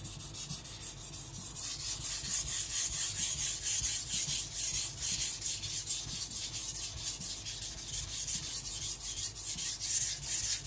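A Tojiro white steel shirogami nakiri knife is rubbed back and forth on a coarse whetstone to thin it, a steady close rasping stroke repeated rapidly and evenly throughout, with no voices.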